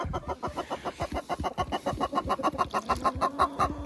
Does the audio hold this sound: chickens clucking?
yes